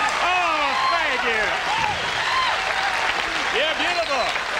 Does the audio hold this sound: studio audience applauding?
yes